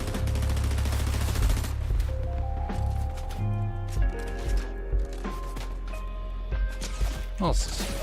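Gunfire in the Fortnite video game, a busy run of shots and crashes mixed with game music and effects, fairly loud and continuous for several seconds.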